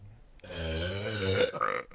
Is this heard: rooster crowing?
no